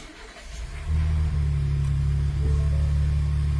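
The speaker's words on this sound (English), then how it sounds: "Now let's try to start the car." A 2025 Ford Expedition engine cranks and catches, then settles into a steady, loud, close idle with a low rumble and no talking.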